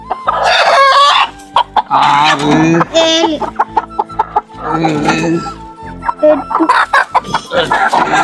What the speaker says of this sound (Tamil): அது காப்பலி கோழி.